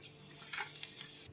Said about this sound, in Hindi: तेल हमारा गर्म हो चुका है। इसमें हम डालेंगे पहले जीरा